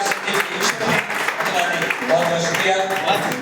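Audience applause at a Holi gathering at Royal Palace Gadarwara, dense sustained clapping from a crowd with a voice talking over it throughout.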